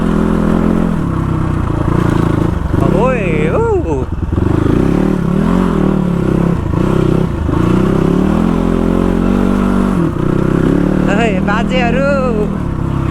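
A Honda CX250R motorbike rides a newly built mountain road, its engine droning loudly and steadily with rising and falling revs as the rider speaks over it.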